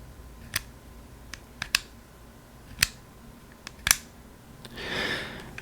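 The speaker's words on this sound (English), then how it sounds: "Here's the sound of the selector switch." Selector switch on a Vorsk EU18 airsoft pistol clicks sharply several times at irregular intervals, close and crisp over quiet background, followed by a softer rustle of handling.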